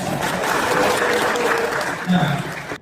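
Applause from a room of attendees at a dental teaching session, steady and moderately loud with a voice briefly heard under it near the end.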